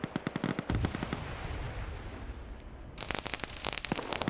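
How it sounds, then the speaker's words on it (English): In a military video game battle with armored vehicles and a smoke push, rapid bursts of gunfire rattle, then grenade blasts rumble in a steady roar before another flurry of sharp shots rings out, moderately distant. "Grenades being thrown into that area here."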